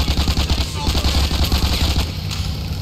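Rapid automatic gunfire from a weapon in GTA IV The Ballad of Gay Tony, a loud sustained stream of evenly spaced shots that continues steadily for nearly three seconds before easing slightly at the end.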